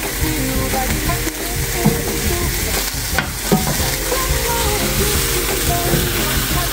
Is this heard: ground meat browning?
yes